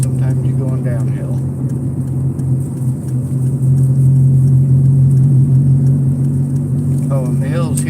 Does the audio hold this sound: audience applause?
no